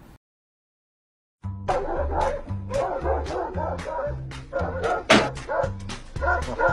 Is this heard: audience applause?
no